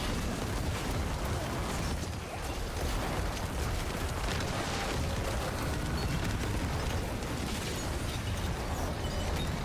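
Corpse explosions go off nonstop in Diablo 4, a dense barrage of overlapping bursts, pops and booms at a steady loud level throughout, with no voices.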